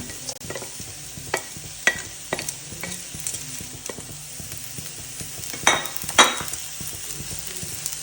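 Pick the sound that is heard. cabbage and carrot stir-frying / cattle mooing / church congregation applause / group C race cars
cabbage and carrot stir-frying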